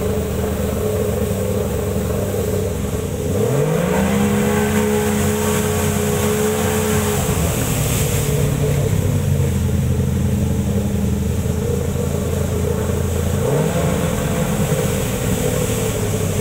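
A 60hp outboard boat engine warms up before a fishing trip, idling steadily, then revving up and holding a higher drone for several seconds before settling back, with a second rev near the end.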